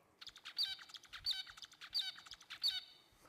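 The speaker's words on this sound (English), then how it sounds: "advanced studies in zebra finches because these species learn to produce a very repeating song motif" A zebra finch repeats its song motif four times in a regular rhythm, each a cluster of bright buzzy harmonic notes and sharp chirps, close and clear over a quiet background.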